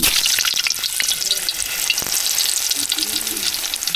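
Potatoes frying in oil at the start of a village-style mutton curry, giving a loud, steady, close sizzle with bubbling crackle and occasional stirring scrapes.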